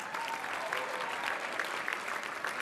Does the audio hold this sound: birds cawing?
no